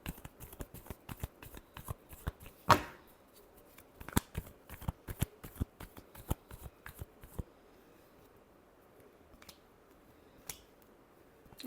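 Tarot cards being shuffled up close, a rapid series of crisp riffling snaps and flicks in short bursts, with one louder slap and quieter pauses between, no voices.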